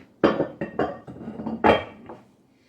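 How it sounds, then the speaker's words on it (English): A whisk clinks briskly against a bowl in several quick, close bursts while eggnog ingredients are mixed. "You just whisk all that in together."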